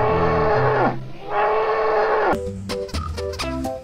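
A toy water buffalo gives a loud, drawn-out electronic moo, repeated twice, followed by a few short clicking and rattling noises from the toy.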